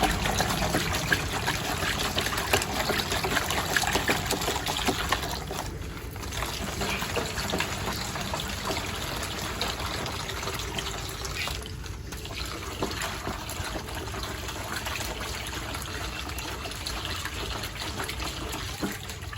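Boiled, filtered water is poured and mixed for a sulcata tortoise, a continuous close trickle and splash that runs steadily with only brief dips. Faint speech sits beneath it.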